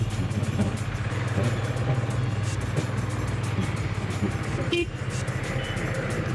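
A motorcycle engine idles with a steady low throbbing rumble close by, then rides off along a city road beside a lake, the motor tone holding firm through the whole stretch with faint traffic around it.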